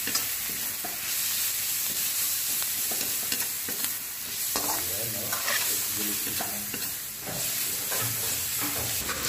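Fried wai wai noodles with cabbage and seasoning stirred in a sizzling pan, a steady frying hiss overlaid with repeated scraping and clacking of the utensil, close and continuous.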